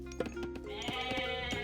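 Goats in the strategy game Age of Mythology give a few quick, nasal, quavering bleats close up, with no talking over them.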